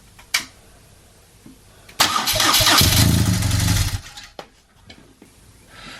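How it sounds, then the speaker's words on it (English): A BMW R1200GS motorcycle engine is cranked during an oil change. After a few clicks it catches with a loud rumble and runs for about two seconds before cutting off, with a few clanks afterward. "I will fire up the engine just to turn it around very briefly"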